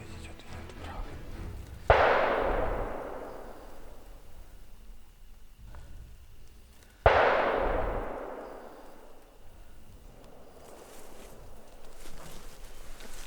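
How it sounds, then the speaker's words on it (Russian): Two loud gunshots several seconds apart during a bear hunt outdoors, each a sharp crack followed by a long rolling echo fading away, with quiet background in between. "2 выстрела"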